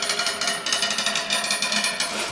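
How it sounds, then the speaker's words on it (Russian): An electric drill bores into the wooden tabletop of a dresser, giving a harsh, gritty whir that pulses in rapid, regular bursts throughout, close and fairly loud. "буду сверлить столешницу"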